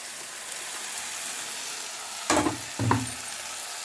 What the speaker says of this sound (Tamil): நான் மசாலா போட்டு நல்லா கிளறுங்க அது நல்லா ஊற்றின எண்ணெய் நல்லா ஊசோட்டாய் வருங்க